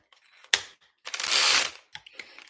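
A power driver buzzes as it backs screws out of the rear bumper of a Redcat Gen8 RC car, with a sharp click followed by a longer whirring burst and small handling taps, no talking.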